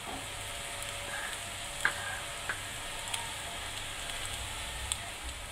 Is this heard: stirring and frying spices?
yes